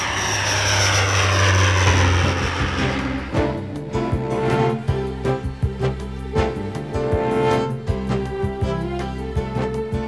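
Propeller airliner engine on a Dutch passenger flight between Groningen, Enschede and Schiphol, a loud, steady droning roar that settles into a throbbing, pulsing rhythm, with no voices.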